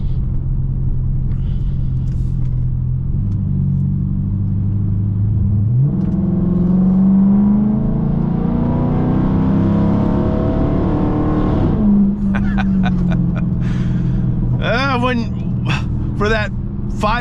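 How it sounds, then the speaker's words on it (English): A Dodge Charger Pursuit's Hemi V8 with raw, unmuffled straight-pipe exhaust drones and rises as it revs, close and continuous, with a voice talking over it near the end. "the straight pipes do sound cool, but it's too much"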